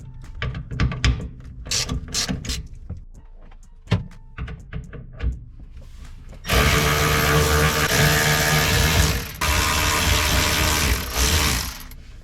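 A ratchet spins off 8mm bolts on a Lexus SC300/SC400 fuel pump access cover with rapid close clicking bursts and clanks, followed by a louder steady mechanical whirring rush.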